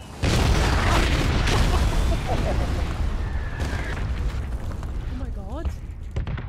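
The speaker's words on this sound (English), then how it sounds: "It was only 6 artillery shots." Red zone artillery shells exploding in PUBG, heavy deep booms rumbling continuously and loudly, with a man exclaiming over the blasts.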